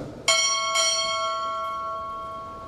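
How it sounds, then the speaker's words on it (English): Two sharp strikes of a ship's bell ring out at a U.S. Navy chief petty officer promotion ceremony, about half a second apart, each leaving a long shimmering decay over low background noise. "Time order, strike 2 bells."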